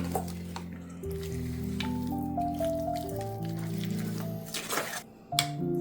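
Raw chicken is mixed by hand with yogurt and oil for biryani, making soft, wet squishing and dripping sounds throughout, with steady background music underneath.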